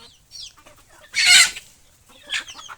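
Hens on a chicken farm cluck nearby in short bursts, with one loud squawking outburst in the middle and a smaller call near the end, among quiet background clucks.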